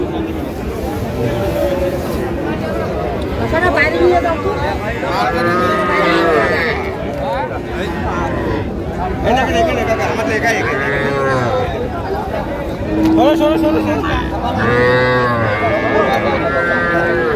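Young bull calves moo repeatedly at a busy cattle market in Cumilla, their calls rising over a steady murmur of buyers and sellers talking nearby.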